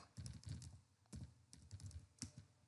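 Quick clicking keystrokes on a computer keyboard come in short irregular clusters, close but quiet, with no one talking.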